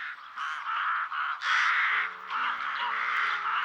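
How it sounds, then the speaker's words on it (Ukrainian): Rooks calling in a winter bird-recognition game: a run of loud, harsh caws repeated in quick succession, close and clear, with no talking. "Грака."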